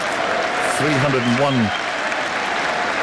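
A crowd at a cricket Test match between England and South Africa rises in a brief swell of cheering and applause, heard under a commentator's voice on a radio broadcast.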